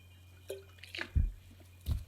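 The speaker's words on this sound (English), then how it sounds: "I get a drink of water again" Someone takes a drink of water close to the microphone: a faint sip, then two wet gulping swallows a moment apart, with no talking.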